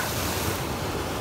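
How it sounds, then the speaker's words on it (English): Churning water thick with foam and air bubbles, heard from someone standing in surf: a steady, dense wash and roar with some wind buffeting on the microphone, no voices. "you see all this foam, all these bubbles and everything mixing up that I'm standing in"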